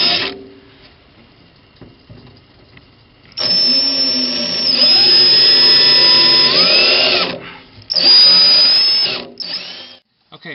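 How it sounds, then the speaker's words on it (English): A power drill bores 9/32 bolt holes for mounting a stereo pod, whining loudly in several bursts with rising pitch as it spins up, then briefly stopping between holes. "I'm going to go ahead and start drilling them out"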